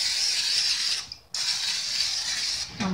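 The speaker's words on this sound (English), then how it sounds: "we will take our cookie sheet and give it a light spray" Short hissing bursts from an aerosol can of cooking spray onto a cookie sheet, with a brief pause between sprays and a faint clink at the end.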